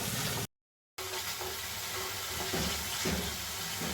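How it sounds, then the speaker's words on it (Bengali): Water poured little by little into an onion-garlic spice paste cooking in a pan for egg curry, making a continuous close sizzling splash with soft stirring knocks, briefly cut by a moment of silence. "আবার একটু করে জল দিচ্ছি আমি।"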